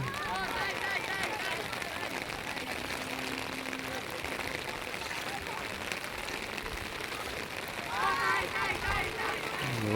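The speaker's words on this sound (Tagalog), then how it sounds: "Ulan na ulan." Steady rain pattering on surfaces, a dense hiss of drops with brief voices breaking through near the end.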